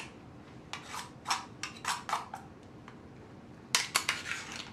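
A utensil scrapes cooked gluten-free pierogi dough off a hot pan in a series of short, quiet rasping strokes, a few in a cluster and then another burst after a pause.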